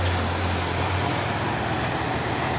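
A tanker truck idles while held on an uphill road, its engine giving a steady low rumble with a deeper hum that drops away after the first second.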